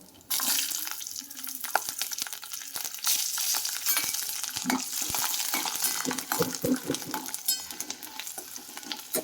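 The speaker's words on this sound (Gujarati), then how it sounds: "અહીંયા તેલ ગરમ થઈ ગયું છે તો આપણે થોડીક હિંગ નાખશું અને થોડી હળદર નાખશું" Ground asafoetida and turmeric drop into hot oil in a home kitchen pan, giving a broad, steady sizzle that crackles close by. Scrapes and clinks of stirring break through it now and then, and no one speaks.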